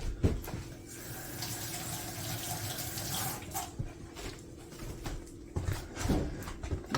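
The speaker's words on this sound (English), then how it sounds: "Always rinse off your onions." Kitchen tap water running steadily over onions being rinsed in a sink, a continuous splashing stream with intermittent louder splashes, close by.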